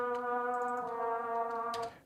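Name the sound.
layered trumpet in beat background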